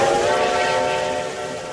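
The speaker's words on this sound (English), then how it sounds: "we just eventually sound the whistle very quick" Train whistle in a Roblox train game, a single loud steady tone held for the whole short span and slowly fading slightly toward the end, close and with no talk.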